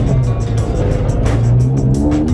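A Lamborghini drives around a racetrack, its engine a loud, steady drone with rising and falling revs and brief bursts of tire noise, close and continuous with no talk.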